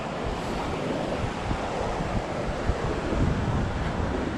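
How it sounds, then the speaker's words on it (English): Sea waves breaking on a shore where seawater is being collected, a continuous broad roar of surf mixed with wind buffeting the microphone, steady and fairly close with no voices. "Without getting drenched by a wave."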